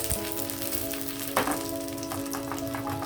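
Chopped garlic frying in hot ghee in a pan, giving a steady close sizzle with a brief louder crackle partway through.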